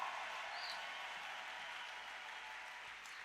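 A church congregation clapping in applause, a dense, even wash of many hands that stays steady and fairly faint, heard at a distance in a large room.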